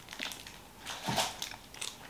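A Carmen's muesli bar is chewed up close, giving soft repeated crunches and mouth noises in an uneven rhythm, fairly quiet, with no talking.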